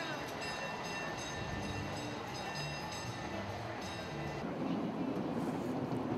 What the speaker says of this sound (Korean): 케이블카는 레일 위를 미끄러지듯 달린다.